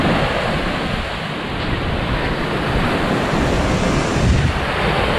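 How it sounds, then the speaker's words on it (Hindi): Sea waves wash steadily against the Muscat coast in Oman while wind buffets the microphone, producing a continuous loud roar of surf and rushing air with no pauses. "लो जी ये है जी समंदर"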